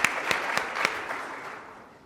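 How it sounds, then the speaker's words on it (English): A mayoral candidate forum audience in Central Houston claps for elected officials, with a few sharp individual claps standing out from steady applause that fades gradually. "A round of applause for all of our elected officials"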